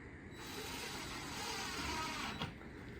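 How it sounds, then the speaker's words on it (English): A power driver runs continuously, close and steady, for about three seconds as screws are started into a Chinese diesel heater that is held in place with tape during installation. "I'll go ahead and get these screws started with it taped on"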